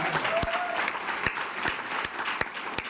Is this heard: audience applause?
yes